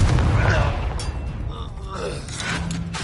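Confringo explosion spell cast in Hogwarts Legacy, a loud blast at the start that fades into rumbling debris and creaking mechanisms, with a voice shouting over the combat.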